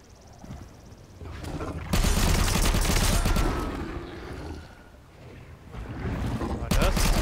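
Gunfire in the video game Nether, with bursts of loud, dense shots cutting in and out over a noisy background, the heaviest volley around the middle and another at the end.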